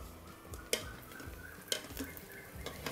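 A spatula stirs egg and rice inside a rice cooker pot for garlic shrimp fried rice, giving soft scraping and a few sharp clinks against the pot over a low sizzle.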